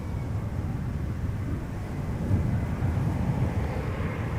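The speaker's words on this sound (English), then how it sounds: "KLM flight 1076 arriving from Bristol, Embraer 175, 54 minutes of flight time now, touching down." A KLM Embraer 175 airliner arriving from Bristol touches down at Amsterdam Schiphol, heard as a steady, fairly close broadband jet roar that swells slightly midway and continues without break.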